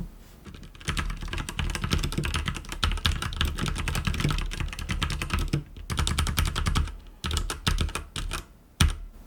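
Close-up typing on an Abko K590 mechanical keyboard with red linear switches, bursts of rapid thocky keystrokes broken by a few short pauses and a heavier key press near the end.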